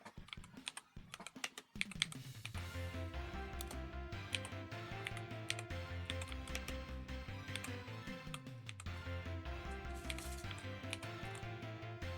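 Quick, light keystrokes on a computer keyboard patter close by in uneven runs over a steady tonal background, with no talking.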